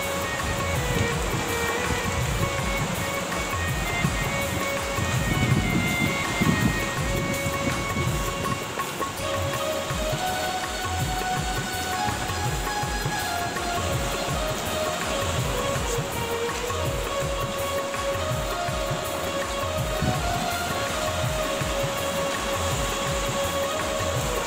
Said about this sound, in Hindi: कितना पानी बहती है